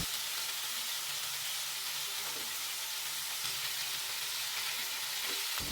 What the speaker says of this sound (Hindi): चिकन को हम दोनों तरफ से उलट पुलट कर अच्छे से भूनेंगे।